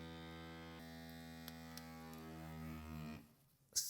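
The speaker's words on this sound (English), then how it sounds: "let's go ahead and say vacuum and seal" Beelicious Pro vacuum sealer pumping air from a bag of meatballs, a steady electric motor hum for about three seconds that cuts off, then a sharp click as the seal starts, close with no talk.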